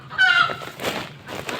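Chickens nearby give loud clucks and short squawking calls in a quick, uneven burst, with one drawn-out call first and then a few choppier cries.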